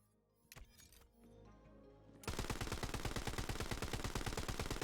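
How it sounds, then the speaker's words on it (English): Mistrial gun firing rapidly in a video game, a fast, even stream of loud automatic shots that starts abruptly after a few clicks and clanks and continues without talk. "how does the mistrial shoot?"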